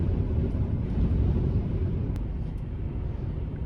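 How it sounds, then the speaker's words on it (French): Strong wind roars continuously in low, buffeting gusts against the microphone, with no voices and a faint crunch partway through. "C'est du vent. C'est le vent,"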